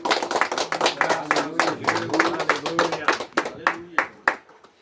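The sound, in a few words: church congregation clapping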